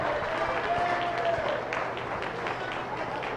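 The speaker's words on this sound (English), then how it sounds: "Let's give all these exhibitors a big round of applause." Audience applause for exhibitors at an open Ayrshire dairy cattle show with 4-H and FFA classes, a fairly faint, steady patter of clapping from a crowd in a show arena, with a few voices and background noise mixed in.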